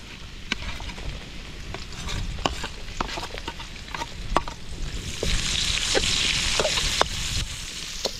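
Onions frying in a pan with steady sizzling and clicks of stirring, growing louder partway through, close and continuous with no talk.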